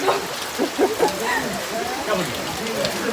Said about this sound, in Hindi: टिकट खरीदते बराबर यहाँ पे बारिश देना शुरू